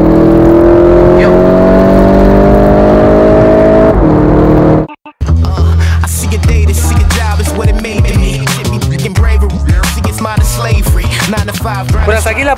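A Volkswagen Golf GTI MK7.5 with 230 hp accelerates hard to overtake, its engine note climbing steadily and loudly for about four seconds before cutting out abruptly, followed by busy music-like sound.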